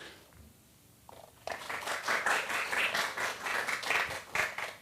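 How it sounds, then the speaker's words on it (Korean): Soft, gentle clapping from a small audience at a lecture and pan flute performance, rising after a quiet start and continuing steadily at a low, even level. "이렇게 잔잔하게 박수 쳐주시면 돼요"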